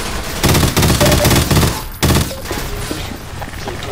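Bursts of MP7 automatic fire in the Counter-Strike: Source Sci-Fi mission, loud rapid volleys stopping and starting, with a short pause before a final burst and softer game sounds after.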